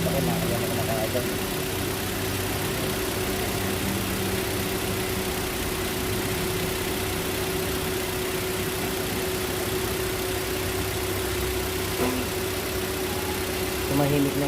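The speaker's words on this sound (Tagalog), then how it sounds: "Tumahimik na yung makina niya." A car engine idling steadily after a misfire repair, a continuous even hum with a steady tone and no audible stumbling, running alone for the whole stretch.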